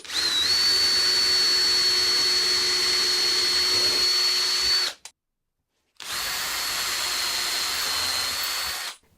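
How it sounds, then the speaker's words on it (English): A power drill drilling countersunk holes in a base whirs steadily at high speed for several seconds, stops briefly, then runs again for another long stretch, close and loud. "I'm just going to drill some countersunk holes in the base"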